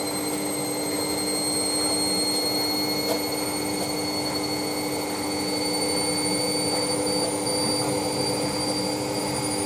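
An Ariston Margherita A1635 washing machine spinning at 800 RPM on a 60°C fast coloureds programme, giving a loud, steady whine with a constant hum and high tonal motor pitches throughout.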